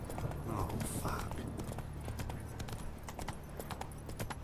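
Horse hooves clip-clop at a steady gait in The Witcher 3, a brisk rhythmic clatter under game ambience, with brief voice sounds.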